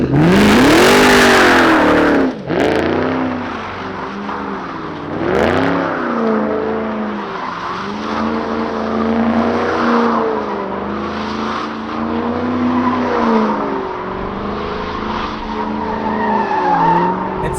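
2021 Ford Mustang Mach 1 doing a line-lock burnout: loud, close tire squeal and skidding over a revving V8 engine that rises and falls in pitch across repeated throttle pulls, with no voices.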